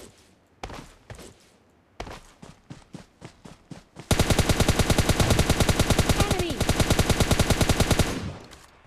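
Gunfire in the video game PUBG Lite with a Scar-L rifle: a few scattered single shots, then a long, loud, rapid automatic burst lasting several seconds, close and dominant.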